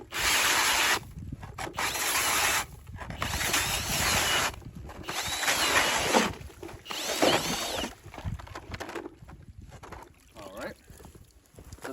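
A battery-powered ice auger drills a hole through ice, its motor whining in loud bursts broken by short pauses, with grinding and scraping as the bit cuts, close by and alone without talk.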